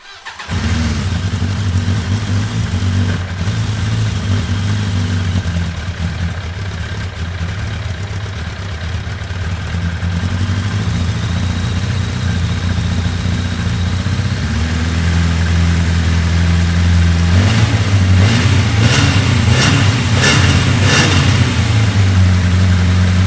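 A 1980s Suzuki GSXR750 motorcycle engine starts and idles close by with a steady, lumpy mid-range drone, then toward the end it is revved several times in quick bursts, loud and alone.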